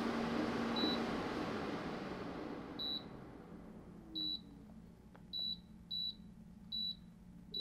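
A Afloia Mage WiFi air purifier on its high setting gives a soft, steady fan whoosh that slowly fades, followed by a series of short electronic beeps, quiet and close.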